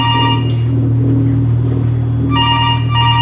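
A telephone rings indoors in a steady electronic tone pattern with a brief pause in the middle, loud and close over a constant low hum.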